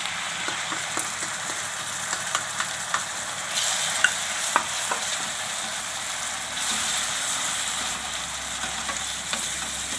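Tomatoes go into browned onions frying in a pan, bringing a loud close sizzle that swells midway, with a spoon scraping and tapping through steady stirring.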